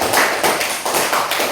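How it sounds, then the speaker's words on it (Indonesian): Students in a classroom clap together in a brief round of applause, a quick run of rhythmic bursts close by. "Kita tepuk tangan dulu sebelum mereka maju."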